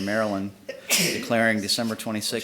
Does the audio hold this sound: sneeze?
yes